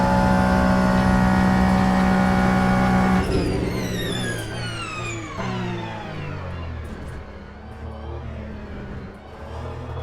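A loud Ferrari race car engine in the racing game Le Mans Ultimate screams at high, steady revs, then shifts and climbs through rising gear changes, whining and roaring up close.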